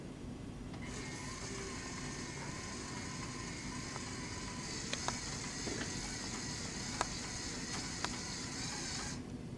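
Small DC motors powered by 9-volt batteries drive a LEGO carousel and Ferris wheel, giving a steady whine with a gear hum over faint background noise and a few light clicks, with no talk.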